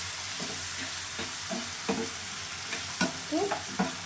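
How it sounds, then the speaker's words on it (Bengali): Chili chicken with soy and tomato sauce sizzles steadily in a pan, broken by clear scrapes and clinks of a spatula stirring, with no talk. "ভাজা ভাজা করব।"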